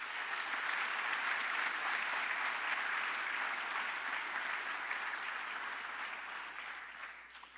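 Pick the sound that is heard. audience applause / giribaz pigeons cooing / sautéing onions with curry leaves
audience applause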